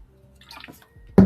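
Water is sipped from a Rutgers water bottle: soft swallowing and sloshing sounds close by, ending in a sudden louder knock or gulp.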